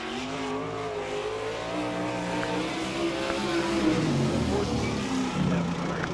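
Sprint car at an All Star Circuit of Champions dirt track race in Fremont, Ohio, a loud continuous engine roar rising and falling through the lap, with an announcer talking over it.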